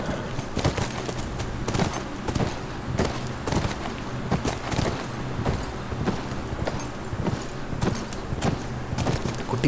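Horse hooves clip-clop in a steady, uneven patter in The Last of Us Remastered on PS4, fairly close and moderately loud amid game ambience.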